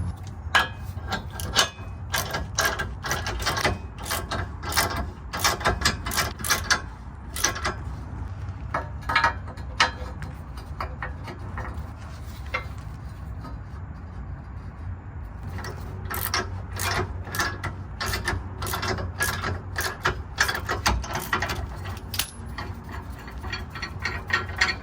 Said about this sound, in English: we can put it back in reverse with the torsion tool